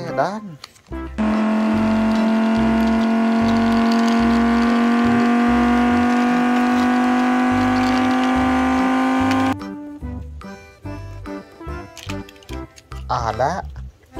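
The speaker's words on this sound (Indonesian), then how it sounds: "Ada mobil sedan." A sedan car engine gives a steady, even, humming drone for about eight seconds, set between brief stretches of other busy background sounds.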